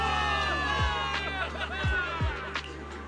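Crowd cheering for victory in the video game Zenless Zone Zero, a dense roar of many voices with whoops and scattered shouts, steady and loud over a low rumble with a few sharp bursts.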